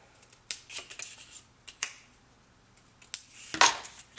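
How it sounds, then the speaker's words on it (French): Scissors snip through a strip of paper glue tape in a few separate, crisp cuts with pauses between them, close and clear with no talking over them. "vous allez couper votre bande de collage qui est ici, de votre papier qui reste"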